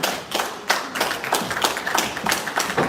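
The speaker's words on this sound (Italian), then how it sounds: "Applauso dei pugili" A crowd applauds boxers entering the ring at an Olympic-style amateur boxing event in Padova, Italy: sharp individual claps in an uneven, scattered rhythm, moderately close, rising and falling in bursts.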